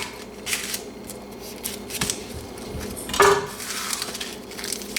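A knife slices the top and bottom off a Vidalia onion on a cutting board, with a few crisp chops and clicks set among soft kitchen handling noises, close and fairly quiet.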